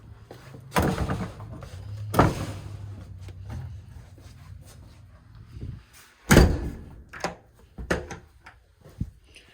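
A front door of a house closes in a dark hallway, giving several heavy thuds and knocks spread across the stretch, with quieter rattles and handling noises in between.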